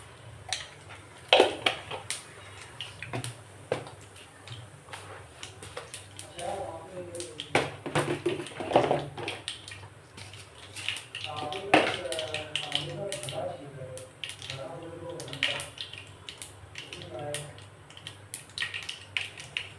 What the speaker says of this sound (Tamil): கடுகு பொடியுது